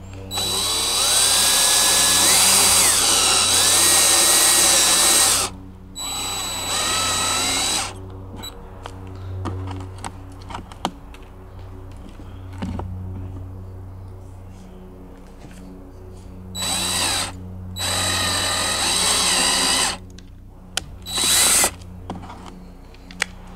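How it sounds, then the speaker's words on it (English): A power drill with a step bit whines loudly in several bursts of a few seconds each, enlarging a hole to 9/16 inch in a Honda EU2200i generator, separated by quieter pauses with faint clicks and handling noises. "using our step drill, we'll want to increase the size of this hole to 9 16ths of an inch"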